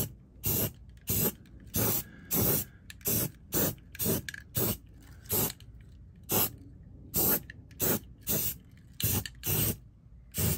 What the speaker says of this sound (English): I almost forgot to spray primer on this thing